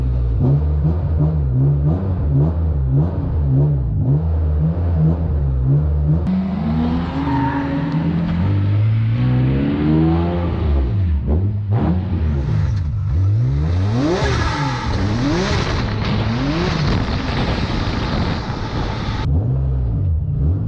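A 600 horsepower BMW E36 drift car with an S54 engine roars close up from inside the cabin, revs swooping up and down in repeated surges as it slides, the engine loud and aggressive throughout.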